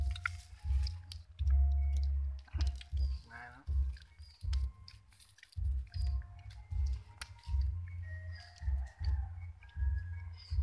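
Someone outdoors eats grilled goby fish dipped in chili salt, with close, moist chewing and squishing bites in an uneven rhythm and brief voices now and then.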